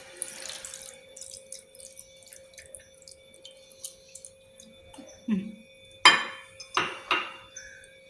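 Water poured into a vessel for pasta being made for an air fryer, faint clinks and drips first, then a few short, close splashing pours toward the end.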